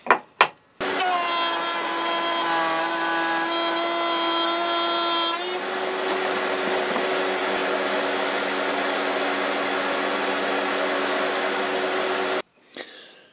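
A router cuts a 3 mm groove into a piece of wood: a loud, steady high-pitched whine that holds a tonal pitch, then turns rougher and noisier as the bit bites, before stopping abruptly.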